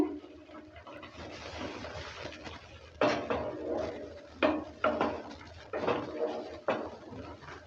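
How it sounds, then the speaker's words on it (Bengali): Egg and pumpkin fritters being stirred in a pan, with repeated scraping clatters of a utensil against metal at a moderate distance over a low background hum. "সে বড়াটা এবার ঢেলে দিচ্ছে ঢেলে দেওয়ার পর ভালো করে নেড়ে চেড়ে নিচ্ছে"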